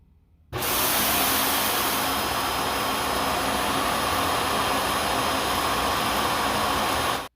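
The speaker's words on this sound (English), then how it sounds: "Emptying the dustbin." Yeedi Vac Station self-emptying robot vacuum base sucking the dustbin empty, a loud roaring rush of air that starts abruptly after a brief quiet moment, holds steady for several seconds, then cuts off sharply.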